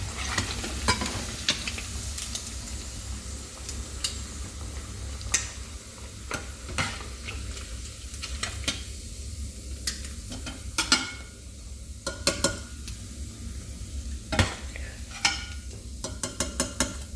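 Prawns frying in oil, a steady bubbling sizzle under a low hum with repeated clicks and taps of a utensil stirring and lifting them from the pan, close by and without speech.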